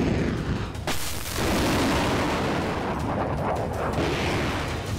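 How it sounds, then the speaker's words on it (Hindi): Heavy gunfire and artillery in Donetsk during the Russia–Ukraine war form a dense, loud, continuous roar of overlapping blasts and booms. A sharp crack comes near the start, and the rumble goes on throughout. "डोनेत्स्क में जोरदार गोलीबारी"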